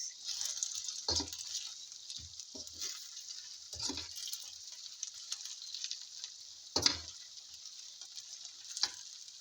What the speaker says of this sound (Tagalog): And then we have to slowly mix.